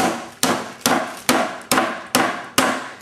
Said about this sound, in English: Now batten the meat out